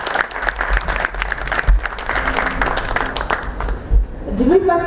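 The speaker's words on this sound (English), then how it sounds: "May I have another round of applause for them?" Applause and cheering for Western dancers at a school appreciation award and dinner ceremony, a busy crowd of claps mixed with voices and chatter, with tonal sounds from a voice or instrument creeping in near the end.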